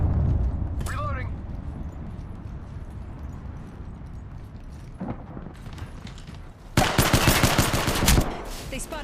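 Rapid bursts of gunfire in a shooter match of Apex Legends, a few scattered shots early then a dense, loud volley near the end, with someone talking over the action.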